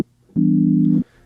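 A default preset on the Arturia CZ V software synth sounds one steady, loud sustained note for about two-thirds of a second, starting and stopping cleanly with nothing else around it.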